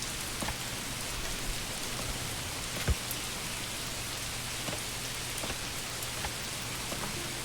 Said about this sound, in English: Wish this rain would piss off.